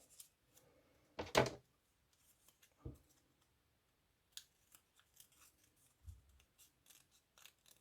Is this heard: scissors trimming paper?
yes